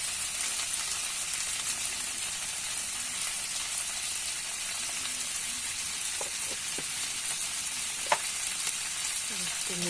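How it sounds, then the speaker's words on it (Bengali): Fried elephant foot yam sizzles steadily in a pan as chili powder is stirred in, with a few sharp clicks of the spoon against the pan, close and unaccompanied by speech. "মরিচের গুঁড়া দেওয়ার পরে কিছুক্ষণ নাড়াচাড়া করে"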